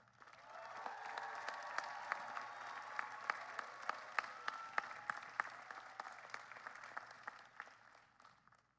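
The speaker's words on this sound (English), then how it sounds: "Please give our faculty a round of applause." Audience applause at a graduate commencement ceremony, a steady dense wash of many hands clapping with sharper individual claps standing out, sustained throughout and fading slightly at the end.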